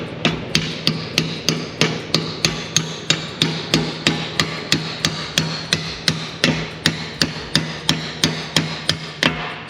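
A hammer drives a punch through a bushing in a BMW M240i subframe, striking steady, evenly spaced, loud metallic blows, about two per second, close up with no talking.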